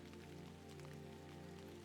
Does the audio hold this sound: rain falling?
yes